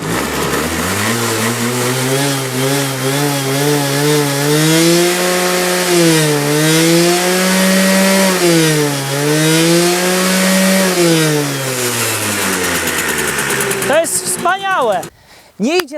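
Simson Schwalbe scooter with all-original East German parts, its small engine running steadily up close and loud, the pitch rising and falling smoothly as it is revved gently, with a brief clatter at the end.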